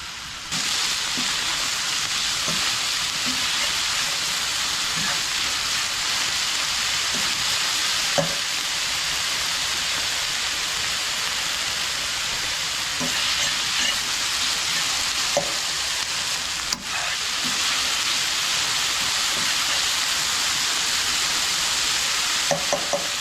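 Hash browns frying in grease in a pan, a continuous close crackling sizzle that stays loud and even throughout, with occasional faint stirring taps and no talking.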